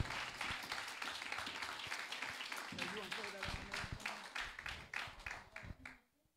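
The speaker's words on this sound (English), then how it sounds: "As he comes, let's give him a hand. Round of applause." A church congregation claps in a steady round of applause with distinct individual claps, while someone speaks over part of it. The clapping thins and fades out near the end.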